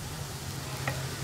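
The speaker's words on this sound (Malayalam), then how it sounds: "ഇതൊന്ന് ഡ്രൈ ആയി വരുന്നത് വരെ നമ്മളൊന്ന് ഇളക്കി കൊടുത്തുകൊണ്ടിരിക്കുക" Egg bhurji fries in a pan with a steady, gentle sizzle, and a spatula stirring through it adds a brief scrape.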